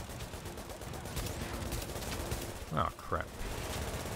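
Enemy gunfire from The Division fills the background as a steady crackling barrage, with a short burst of voiced exclamation near the end partly over the shots.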